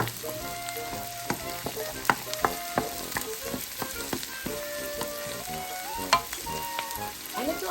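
Garlic sizzles steadily in hot oil in a pan, with repeated scraping knocks and clinks from stirring scattered throughout, close and moderately loud, no talking.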